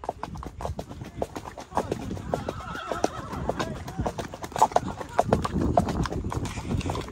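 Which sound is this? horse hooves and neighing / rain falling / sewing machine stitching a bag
horse hooves and neighing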